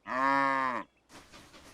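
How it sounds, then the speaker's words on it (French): A cartoon cow in a Thomas and Friends episode gives one loud, sustained moo lasting under a second, followed by a brief quieter rustle. "Les tracteurs, ça fait meu. Non, mais les vaches, oui!"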